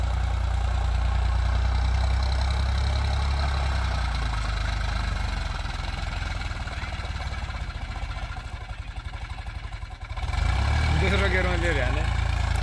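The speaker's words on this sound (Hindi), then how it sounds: "शानदार ताकत लगा रहा ट्रैक्टर" A 2024 Sonalika DI 745 tractor engine labours under heavy load, a loud, deep continuous rumble with knocking pulses that dips briefly near the end before surging back, while people talk nearby.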